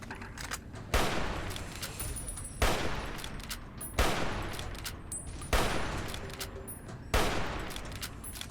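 Gunfire in the video game Fallout New Vegas comes in five loud, dense bursts spaced about a second and a half apart, each rattling out and trailing off before the next.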